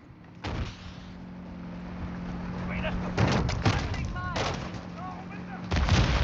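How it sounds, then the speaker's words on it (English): Video game gunfire comes in separate sharp bursts, a first volley and then several clustered shots later, over a steady background hum with a voice heard briefly. "I'm taking fire!"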